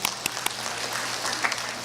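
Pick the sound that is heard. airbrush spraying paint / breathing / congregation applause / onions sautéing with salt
congregation applause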